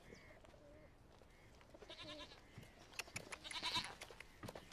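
A goat bleats several times in short nasal calls, fairly close, with a few knocks and light rustling in a domestic setting.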